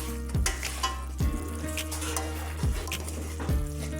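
Masala sizzling and frying in a pan for a green pea aamti, a steady close crackle with four sharp scraping strokes of a spoon against the pan, no voices.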